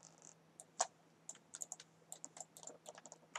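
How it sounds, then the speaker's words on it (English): Computer keyboard keys pressed during Maya 3D modelling work, a quick irregular run of light clicks and taps, close and fairly quiet, with no talking. "when we hit delete on the keyboard"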